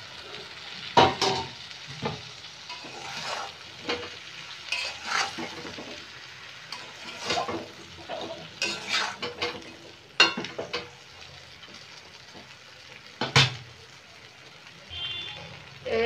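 Chicken pieces and already-browned vegetables seasoned with Kashmiri chilli powder stir-fry in a pan for chilli chicken, with repeated scraping and stirring strokes over a steady sizzle and occasional clinks of utensil against metal.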